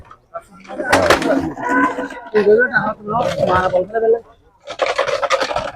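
Cattle of various sizes and breeds at a village cattle market give several long, loud, close moos in succession, with brief gaps between the calls and noisy market ambience behind them.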